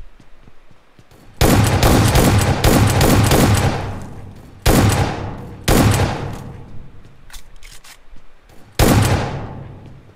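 Shotgun fire in PUBG arcade mode, four loud, heavy blasts spaced a few seconds apart, each followed by a long, rattling echo that fades out.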